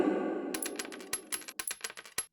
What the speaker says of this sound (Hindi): उसी बर्तन में सोने के सिक्के नापने लगे दोनों